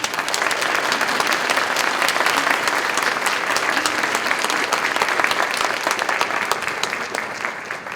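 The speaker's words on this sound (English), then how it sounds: "Let's give Karolyn a big round of applause." An audience claps loudly and steadily, a dense, sustained wash of applause that tapers slightly near the end.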